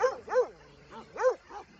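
Dogs scuffle with a quick run of sharp, whining yelps and barks, about five bursts in under two seconds, close and fairly loud.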